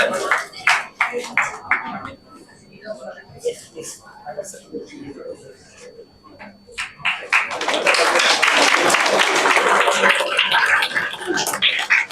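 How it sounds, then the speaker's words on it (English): At an award felicitation ceremony for Indian Forest Service exam achievers, an audience breaks into applause; scattered claps and a voice come first, then dense sustained clapping swells loudly in the second half. "Let's have a big round of applause, guys."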